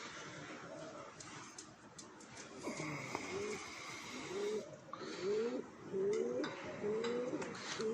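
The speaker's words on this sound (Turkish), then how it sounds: "Çatının üstünde de kuş var." Pigeons on a rooftop coo repeatedly in soft, rolling phrases, growing more frequent in the second half, with faint background noise and no talking.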